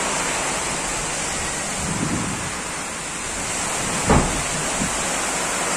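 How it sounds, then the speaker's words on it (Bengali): Strong storm wind blows as a steady, dense roar close by, with a short sharper gust near the end and no voices. "কি লেভেলের বাতাস!"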